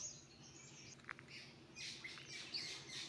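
Birds chirping high in a golden shower (konna) tree during a morning walk, faint scattered tweets and short calls at a distance over quiet background hiss, with no voices.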